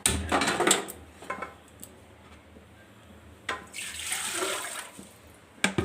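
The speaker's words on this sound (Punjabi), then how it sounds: "ਪਾਣੀ ਪਾਵਾਂਗੇ ਆਪਾਂ ਖੁੱਲਾ" Water poured into a pot of whole masoor lentils and chickpeas, two separate splashy pours with a quieter pause between, close and fairly loud with no talking.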